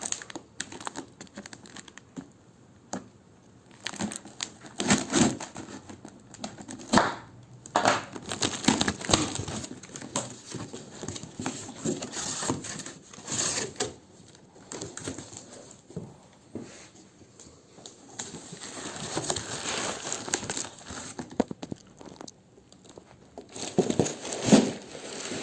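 Plastic packaging around a Globe Cruiser skateboard deck is cut open and handled, giving close, irregular crinkling and rustling bursts that rise and fall over about twenty-five seconds.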